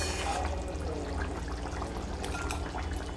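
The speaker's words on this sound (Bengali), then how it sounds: "মাছ দিয়ে আমি একটু নাড়াচাড়া করে নিচ্ছি" Rohu fish turned over in a thin curry sauce in a home-style pan, giving a steady, close wet sloshing and bubbling liquid texture throughout, with no voices.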